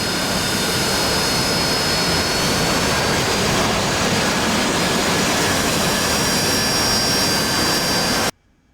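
Jet engine thrust from an AV-8B Harrier in the DCS flight simulator, a loud, steady roaring wash with faint whining tones, holding constant for eight seconds before cutting off abruptly.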